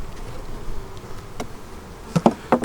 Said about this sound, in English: And we have more bees in here